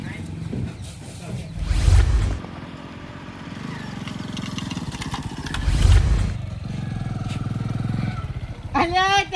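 A motorcycle engine idles and putters nearby, swelling twice in louder bursts while people talk over it throughout.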